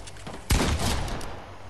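A single loud, sharp gunshot in a video game, close and punchy with a short ringing tail, over a steady low background hum.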